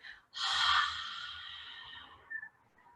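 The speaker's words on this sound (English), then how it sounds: "breathe out as though you're fogging up a mirror, as though you're a dragon breathing smoke" A forceful open-mouth exhale during a yoga breathing exercise, breathy and hazy like fogging a mirror, one long breath that fades out, followed by a faint shorter puff, close to the microphone.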